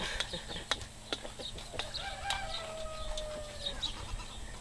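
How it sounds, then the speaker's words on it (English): An adult Red Star rooster clucks nearby in short, sharp, repeated calls with a drawn-out sliding note, over a faint farmyard background and without talk. "an adult red star rooster"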